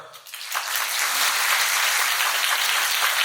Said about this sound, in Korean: 여러분 박수 주시면